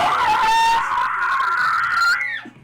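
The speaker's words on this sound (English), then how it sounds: "High-pitched scream" A giant single-headed Hydra in a video game lets out a loud, high-pitched scream that holds steady for about two seconds, then breaks off into a short falling cry.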